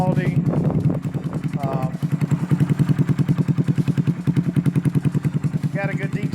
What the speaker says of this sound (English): Definitely got a great meaty sound